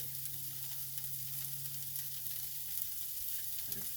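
Parmesan cheese beginning to melt in a hot pan for a crisp, giving a faint, steady low sizzle with soft crackles throughout.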